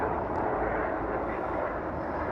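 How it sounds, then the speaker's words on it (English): A helicopter passing over Inverness, Scotland, heard as a steady, moderately loud engine drone that stays constant throughout the short stretch. "Oh, there's a helicopter."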